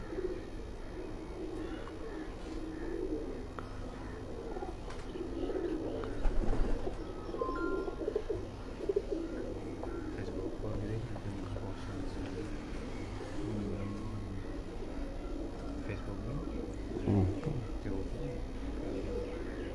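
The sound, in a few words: pigeons cooing, Kamgar pigeon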